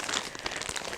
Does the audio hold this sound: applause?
no